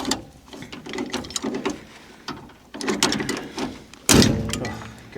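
A fitting on a wildfire protection trailer is tightened with a wrench or ratchet, giving close, uneven runs of metallic clicking and grinding with short pauses and a louder clunk near the end.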